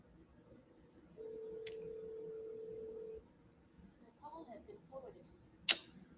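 A phone call rings through to voicemail: a single long steady ringback tone, then faint muffled sounds, a short recorded voice and a sharp beep, all quiet against a low background.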